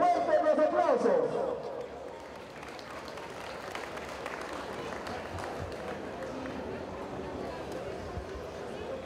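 Applause from an audience at a basketball final and awards ceremony during a 2019 patronal festival, starting as a burst of loud clapping and then settling into a lower crowd murmur with voices over it.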